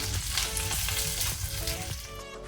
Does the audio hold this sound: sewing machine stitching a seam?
no